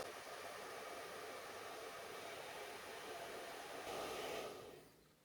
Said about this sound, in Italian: scaldo col phon per 1 minuto